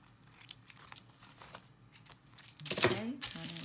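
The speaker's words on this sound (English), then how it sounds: "And then I'm just going around trimming my edges." Scissors snip around the paper edges of a handmade mini accordion book, a few quick cuts near the end following quieter paper handling.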